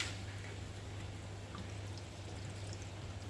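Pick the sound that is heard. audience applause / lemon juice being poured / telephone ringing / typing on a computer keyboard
lemon juice being poured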